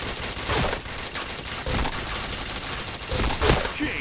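Rapid gunfire in the shooter game Point Blank, coming in several loud bursts of automatic fire with short gaps between them, close and dense, with faint voices underneath.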